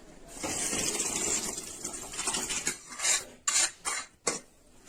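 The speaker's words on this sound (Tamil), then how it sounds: "இதை நல்லா கலந்து விட்டுருங்க" Eggplant and drumstick sambar stirred in a pot with a metal spoon, giving a steady scraping swirl that turns into a few sharp clinks and knocks against the pot near the end.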